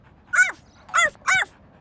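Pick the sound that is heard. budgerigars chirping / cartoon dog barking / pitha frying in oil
cartoon dog barking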